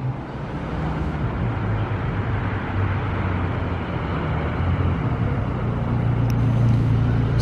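A McLaren 720S Spider sports car approaches on a Monaco street: a broad, steady road roar slowly grows louder over about seven seconds amid surrounding traffic noise.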